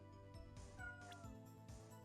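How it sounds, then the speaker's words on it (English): A pet cat meowing repeatedly and insistently indoors, several close meows rising over a steady droning background. "Because Blaze started meowing at me."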